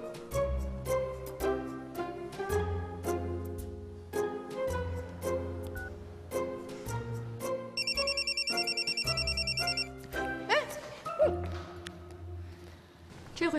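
A telephone ring tone pulses steadily for about two seconds as a call is placed, set within a soft background of music and light movement.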